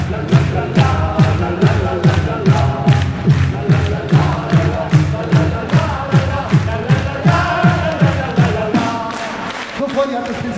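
A concert crowd at a live band show claps in a steady, rhythmic beat over loud music, the evenly spaced claps repeating for several seconds before the pattern breaks near the end.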